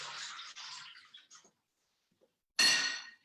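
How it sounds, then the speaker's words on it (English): Water splashes as hands are washed at a kitchen sink during pasty preparation, a soft rushing stream lasting over a second, then a pause before a sharper, brighter gush of running water starts and continues. "Let me just wash my hands 1 moment."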